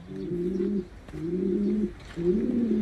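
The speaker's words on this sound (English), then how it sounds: "They're bred to race. They're called racing pigeons," Racing pigeons coo in three repeated low, throaty phrases, close and fairly loud, with short pauses between each call.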